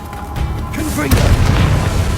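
A Confringo fire spell in Hogwarts Legacy lands as a loud, booming blast with a rumbling burst of low-end impact, sustained through a short fiery roar.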